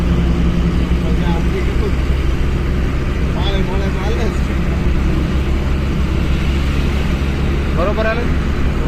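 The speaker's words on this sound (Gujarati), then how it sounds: "ગાડીની ટેસ્ટ ડ્રાઈવ લેવા આવ્યા છીએ" An old car about twenty years in age runs its engine during a test drive in Bhavnagar, a steady loud drone with a mechanic checking a possible bearing noise, while people talk over it throughout.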